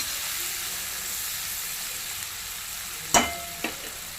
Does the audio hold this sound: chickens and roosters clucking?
no